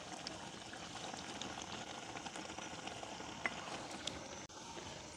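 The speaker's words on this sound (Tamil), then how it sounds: "எப்படி கொதிக்குதுண்ணா? இப்படியே நல்லா கொதிச்சு கொண்டு வந்துட்டு தானே." Curry bubbling at a steady boil in a pot over a village wood fire, a soft continuous simmer with scattered small pops, faint and close, with no voices.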